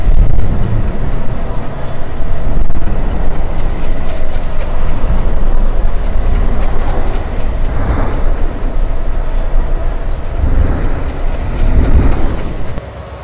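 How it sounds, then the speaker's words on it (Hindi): Diesel locomotives hauling a very long Humsafar Express in a train simulator game, a steady loud rumble of engine and rolling wagons throughout with faint rail clatter and no talk. "दोनों ही ट्रेनों के जो लोकोमोटिव है दोस्तों डीजल के हैं भाई"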